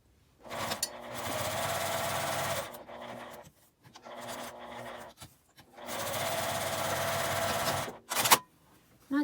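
A sewing machine edge-stitches both sides of a folded fabric tab for a key case. It runs in three long whirring bursts separated by brief quiet pauses, with small clicks and handling noises between them.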